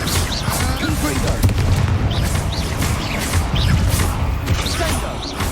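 Confringo spell explosions going off in the video game Hogwarts Legacy, a dense run of loud booms and crashes repeating throughout over continuous battle noise.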